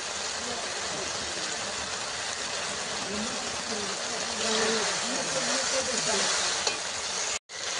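Taro (ghati kochu) curry sautés in a pan, a continuous close sizzle with the scrape of stirring running throughout and a voice talking faintly underneath, broken by a sudden brief cut near the end.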